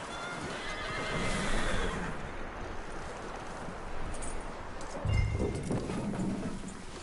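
A horse in the video game Red Dead Redemption 2 whinnies loudly amid a steady clip-clop of hooves, with a second neigh partway through over a busy outdoor backdrop.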